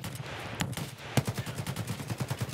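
Rapid bursts of automatic gunfire from a firefight in the video game Escape From Tarkov, a run of sharp repeated shots with one heavier blast midway, fairly close and loud.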